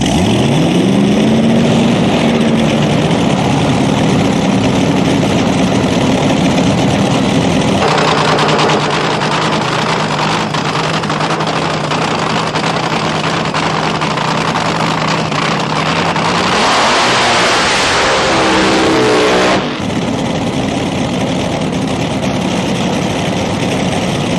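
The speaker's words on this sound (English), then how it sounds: "I drive the Thrash Racing Top Fuel Dragster" A nitro-burning Top Fuel dragster engine runs loudly up close, holding a rough, throbbing idle before rising into sustained revs and then settling back, with no talk over it.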